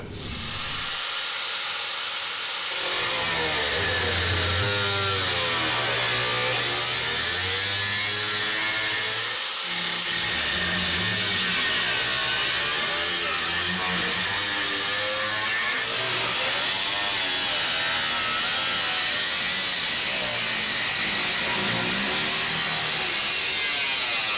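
A power tool cuts through the passenger floor panel of a Jeep CJ7, giving a loud, continuous, rasping hiss with brief pauses near the start and middle, heard close up with no talk.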